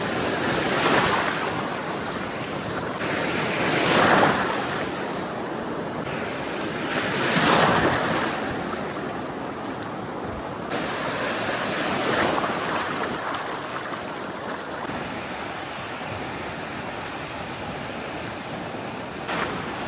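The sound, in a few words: sea waves roaring on the shore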